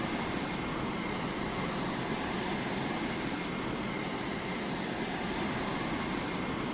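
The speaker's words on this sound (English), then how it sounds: "They're deploying aircraft." Enemy aircraft deploying in the video game Command Carrier 2 give a steady, dense engine roar that holds at an even level the whole time, with no one speaking.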